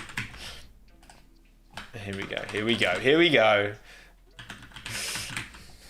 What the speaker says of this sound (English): This is a great keyboard. It's just loud.